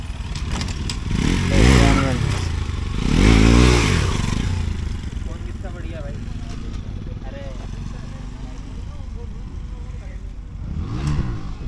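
A Royal Enfield Continental GT 650 with a loud aftermarket exhaust revs in two or three rising bursts, then settles into a rumbling idle while people talk nearby.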